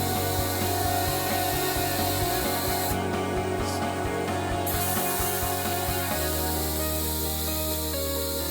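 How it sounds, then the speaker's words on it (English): Primer being sprayed onto 1965 Mustang fenders at home, a steady spray-gun hiss with compressor-like hum and tonal machine drone underneath, continuous and close. "we're going to go ahead and spray these with primer"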